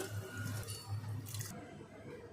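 A clay pot is rinsed and washed with water, giving soft close splashes and trickles with light drips at a low level, no voices.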